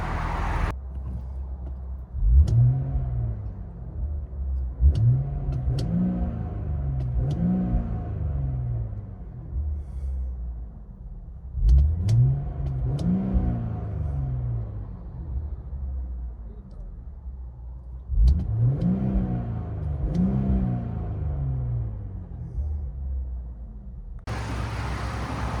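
A 2021 Infiniti Q50 with a 3.7L V6 and Invidia Gemini cat-back exhaust revs repeatedly from the cabin, three clusters of rising blips swelling and falling over a steady low idle rumble.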